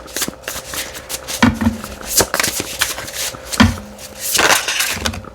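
Shaman's Dream oracle cards are shuffled by hand, giving a run of crisp riffling bursts and soft slaps that come in uneven clusters over several seconds, close and fairly loud, with no talk.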